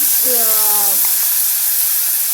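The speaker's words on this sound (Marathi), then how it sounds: "आता हे जे सुरणाचं वाटण आहे केलेलं हे मी यात घालते" Ground yam (suran) spice paste with red and Kashmiri chillies tipped into a hot pan with turmeric sets off a loud, steady sizzle and hiss that fills the whole moment, with a brief tonal squeal near the start.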